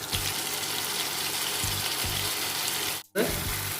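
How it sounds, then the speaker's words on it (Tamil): Onions, tomato and ginger garlic paste sauté in a pan with a steady, close frying sizzle that briefly drops out for a moment near the end before resuming. "இப்போ தக்காளி வெங்காயம் நல்லா வதங்கி இது கூட இஞ்சி பூண்டு பேஸ்ட்டை நம்ம சேர்த்துக்கிறோம்"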